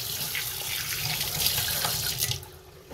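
Kitchen tap running steadily into a bowl to soak flattened rice (chira), a close, continuous splashing water stream for about three seconds.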